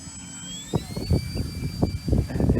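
A Hobby King A-1 Skyraider 800mm RC warbird flying overhead, its electric motor whining in a rising and falling high pitch over gusty wind bursts, fairly close and steady with no voices.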